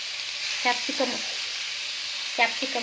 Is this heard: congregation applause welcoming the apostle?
no